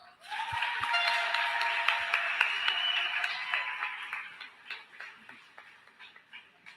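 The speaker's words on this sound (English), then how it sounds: "give yourselves a round of applause" Round of applause from the audience at a national youth pitch competition evening event, a dense steady wash of clapping that gradually thins into separate claps.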